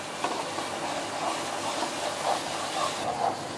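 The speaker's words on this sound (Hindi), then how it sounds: "इसको हम 2 से 3 मिनट के लिए भून लेते हैं।" Minced meat keema frying in a pan for dum keema, giving a continuous close hiss and sizzle with a few soft swells and no voices.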